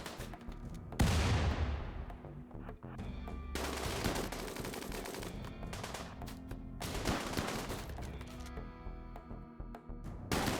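Heavy gunfire in the video game Rimworld, a ton of bullets flying as repeated loud bursts of automatic shots, with a big crashing blast early and dense volleys stretching on through the rest.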